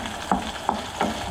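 Spoiled onions sizzling in a frying pan while being stirred, with a steady hiss broken by three distinct scraping strokes of the spoon at roughly even intervals.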